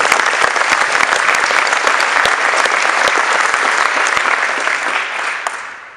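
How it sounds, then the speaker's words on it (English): Steady applause from an audience at a high school girls basketball celebration, honoring an athletic trainer; dense clapping fills the room from a moderate distance and fades slightly near the end. "let's give him a round of applause for making him this year"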